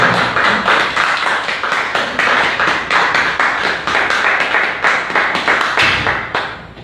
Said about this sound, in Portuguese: Vamos dar uma salva de palmas bem forte ao Senhor.